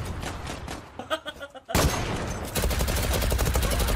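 Rapid gunfire bursts from a multiplayer shooter game in a capture-the-flag mode, with scattered shots first and then dense sustained firing, over a player's voice.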